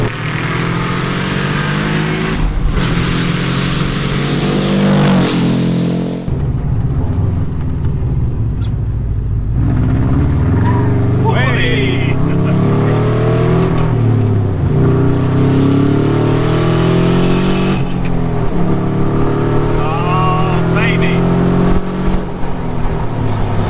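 A Fiat 500 'Fubaru' with a 170hp Subaru engine revs and accelerates hard through rising and falling gear pulls, loud and close throughout with a deep, raspy engine note.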